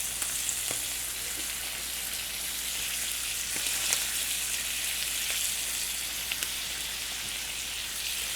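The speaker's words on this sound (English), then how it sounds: "Now we're going to throw the shrimp in." Shrimp fry in a greased pan for an omelette with blackened spice, giving a steady close sizzle like light rain, with occasional small pops and crackles.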